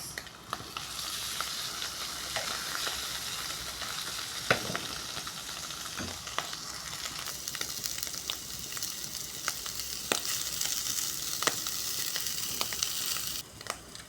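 Onions sizzle and fry steadily in a pan as fish tamarind curry is added, a dense continuous hiss with occasional stirring clicks and pops, close and loud with no talk.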